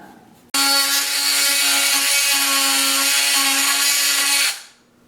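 A loud power saw whines steadily for several seconds as it cuts through a broken guitar headstock, then spins down.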